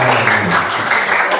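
Classroom applause from students, a steady dense patter of many hands clapping filling the whole moment, with some faint voices mixed in underneath.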